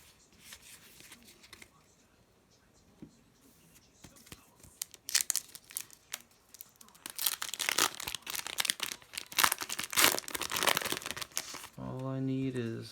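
Foil Battle of Chaos trading card packs are torn and crinkled, quiet at first, then growing into louder bursts of crackling and ripping, with a voice speaking near the end.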